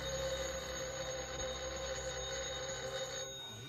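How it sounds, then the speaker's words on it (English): A 1950s telephone bell rings continuously, a steady bright ringing tone heard alone indoors before it stops near the end. "Let it ring. Oh, it will only keep on ringing."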